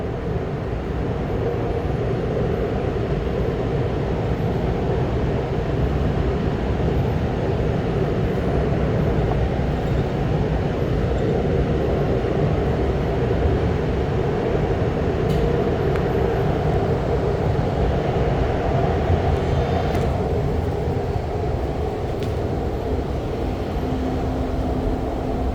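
Steady rumbling ride aboard an REM light rail train at night between Brossard Station and Central, with continuous loud rolling noise, a low hum and a few brief high crackles that fit the pantograph sparking on the overhead line.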